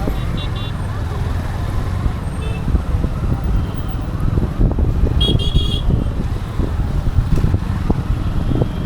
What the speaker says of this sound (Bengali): কতটা জ্যাম রাস্তা, বাপরে বাপ, কখন যে শেষ হবে জ্যামটা।